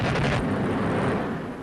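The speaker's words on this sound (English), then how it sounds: "The 4-cannon guns, which are fitted to this aircraft, make the Hurricane more formidable still." A Hawker Hurricane Mk IIC's four cannons fire with a loud, dense burst of rapid reports, followed by a continuous heavy roar.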